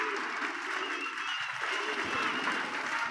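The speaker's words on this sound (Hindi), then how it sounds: "ये बहुत तेज आ रही है बरसात।" Heavy rain pours down outdoors where a young pigeon is being handled, a dense steady hiss lasting throughout with faint voices underneath.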